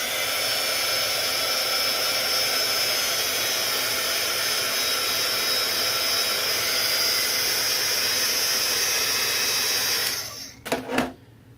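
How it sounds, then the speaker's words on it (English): A heat gun blows hot air over a painted flower piece, a loud steady roaring hiss that runs nearly unbroken for about ten seconds before cutting off, followed by a couple of brief clunks. "But I still put the heat gun to it just a little bit."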